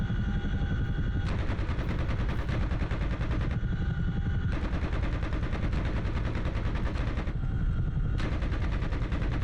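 Sustained rapid machine-gun fire rattles in the DCS World combat flight simulator during a helicopter mission near Camp Bastion, loud and continuous with bursts stopping and restarting over a constant rotor drone.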